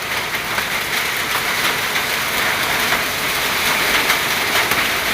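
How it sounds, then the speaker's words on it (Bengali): Heavy, dense patter of a hailstorm with rain pounding a surface, a loud, constant hiss-like roar with no voices. "তো কি পরিমাণে শিলাবৃষ্টি হচ্ছে দেখো"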